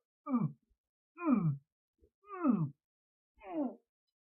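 A beatboxer's voice imitates an inward, gag-reflex-like breath: four separate strained, moaning intakes spaced about a second apart, close and clear with silence between them.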